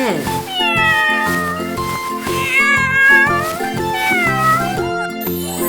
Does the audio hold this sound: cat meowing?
yes